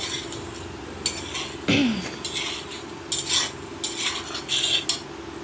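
A metal spoon stirs and mixes bean seeds with other ingredients in a pan, producing scraping and clinking strokes in irregular bursts over a soft background sizzle.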